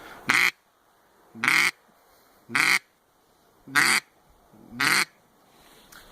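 A duck call imitates a lonely hen with five loud, evenly spaced quacks, each separated by a short pause for breath, close and clear with no talking.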